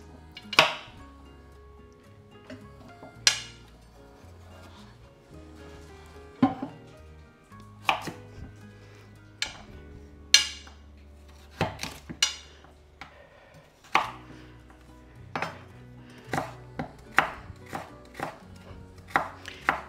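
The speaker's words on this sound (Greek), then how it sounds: "Και τώρα θα αρχίζουμε να τα κόβουμε. Θα κόβουμε σε μεγάλα κομμάτια." Carrots being chopped into large pieces with a knife on a cutting board, a steady series of sharp, close knocks at an irregular rhythm with quiet pauses between, with no talking.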